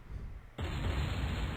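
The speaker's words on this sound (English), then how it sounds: "Boom! Big boom. Big blow up." TNT blast under a huge boulder in the video game AQWorlds, an abrupt loud burst that cuts in partway through and holds as a dense, roaring rumble over steady game background sound.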